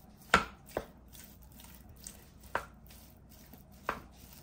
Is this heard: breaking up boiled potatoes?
yes